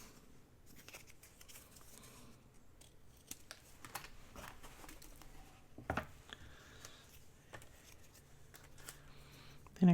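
Scissors snip through old file folders and chipboard cut at an angle, a series of crisp, irregular clipping sounds close up against a quiet room, with a sharper cut near the end.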